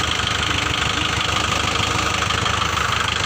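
A two-wheeled walking tractor engine runs close by with a steady, rapid knocking chug. The single-cylinder beat holds even and loud throughout, with no voices over it.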